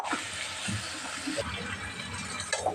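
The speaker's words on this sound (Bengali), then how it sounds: "এবার আমি ঝোলের জন্য জলটা দিই" Water pours into a pan of curry gravy with garlic on the stove, a steady close splashing rush lasting a few seconds.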